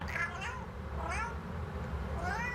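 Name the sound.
cat meowing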